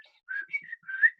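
A person whistles a short, warbling phrase of a few quick rising and falling notes, imitating a blackbird's song, quiet and close.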